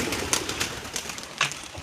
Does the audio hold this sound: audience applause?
no